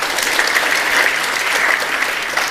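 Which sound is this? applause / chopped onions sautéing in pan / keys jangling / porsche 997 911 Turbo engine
applause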